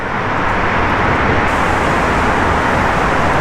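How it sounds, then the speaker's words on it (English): Steady, loud roar of road traffic echoing inside the 3rd Street Tunnel under Bunker Hill, Los Angeles, a dense continuous wash of engine and tire noise with no pauses. "Yeah, lots of traffic,"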